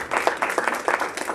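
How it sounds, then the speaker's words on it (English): An audience applauds after a university arts festival concert, with dense, steady clapping from a crowd in a hall and no voices over it. "let's give them a round of applause"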